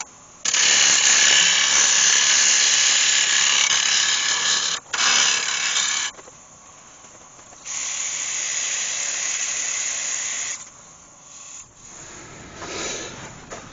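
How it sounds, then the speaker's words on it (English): A skew chisel shapes the round of an ash bowl on a wood lathe, giving a loud, steady scraping hiss in long bursts with short pauses between cuts. "I'm just going to quickly shape that round with a skew chisel"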